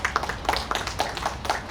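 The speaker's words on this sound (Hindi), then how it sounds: "कृपया उनके लिए भी तालियां बजाएं" An audience at a Hindi literary seminar gives a brief, light round of applause, with scattered individual claps rather than a full roar. The hall carries a soft background hum and no voice is heard.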